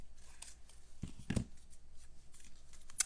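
Scissors making a quick trim of paper for a handmade fall card, a few faint snips with one sharper cut in the middle, set against quiet background noise.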